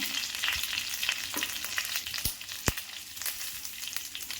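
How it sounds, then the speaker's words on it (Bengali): Bay leaves and two cracked cardamom pods hit hot oil for a traditional Bengali koi fish curry, giving a steady close sizzle broken by a few sharp crackles and pops, with no voices. "এখন আমি তেজপাতাগুলো দিয়ে দিচ্ছি।"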